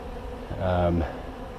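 Honeybees swarm in front of an open hive during an autumn inspection, agitated after several days of weather; a close, loud buzzing swell rises and fades in about half a second as bees fly past, over a steady outdoor background.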